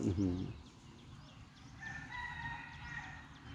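A rooster crows partway through, somewhat distant, amid background clucking from a flock of chickens; a brief voice is heard at the start.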